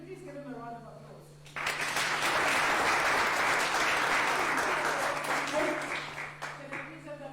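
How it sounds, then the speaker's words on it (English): An audience at an HIV awareness event breaking into applause, a dense burst of clapping lasting about five seconds over a steady hum, with a voice speaking before and after. "Can you please give him a round of applause?"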